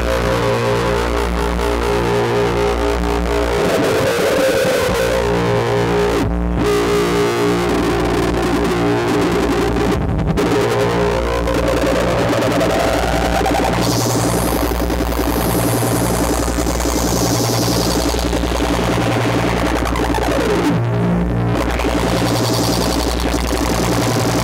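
A loud, steady electronic drone from a Moffenzeef Modular Stargazer drone synthesizer, with layered buzzing tones that hum continuously, shifting slightly in pitch and texture without pause.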